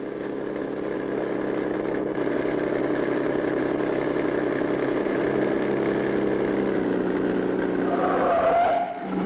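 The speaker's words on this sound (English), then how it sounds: "The driver starts the motor and away goes the truck." A cartoon truck's motor runs loud and steady for several seconds as the truck drives off into the northwoods, the engine drone holding at a constant level before dropping away abruptly near the end.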